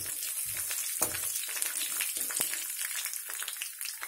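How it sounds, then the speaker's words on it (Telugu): Mustard seeds, cumin, urad dal and curry leaves tempering in hot oil for a green peas and palak curry give a steady, soft sizzle with sharp crackles and pops scattered throughout. "ఆయిల్ వేడెక్కింది, ఆవాలు, జీలకర్ర, మినపప్పు, కరివేపాకు,"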